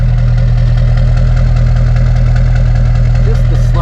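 A Duramax LB7 diesel engine idles close by, a loud, steady low rumble with a faint knock and no break throughout.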